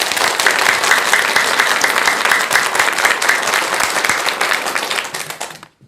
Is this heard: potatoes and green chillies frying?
no